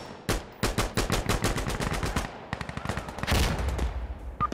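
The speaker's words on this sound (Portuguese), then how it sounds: "Atira no batente que você pega" Rapid gunfire in the shooter game Insurgency Sandstorm, loud bursts of automatic shots in quick rhythmic strings, close and sharp, with a heavier volley near the end.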